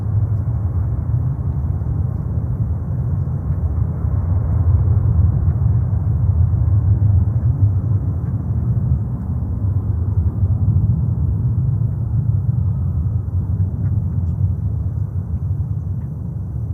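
An Emirates Airbus A380, four years old, passing at JFK airport on a windless day: a steady, heavy low rumble of jet engines that holds evenly for the whole stretch, with no talk over it.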